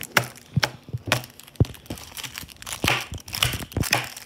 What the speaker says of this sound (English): I gotta first break the chocolate off